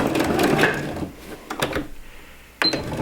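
A sewing machine stitches scrunchie fabric in a short whirring burst at the start, then gives a few brief clicks and pauses as the stitch is finished.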